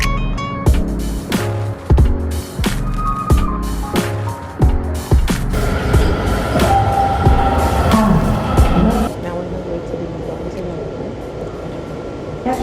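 An Amtrak train at Eisenhower Avenue station, with rhythmic low mechanical clunks at first, then a continuous rolling rumble with squealing tones, and voices talking in the background.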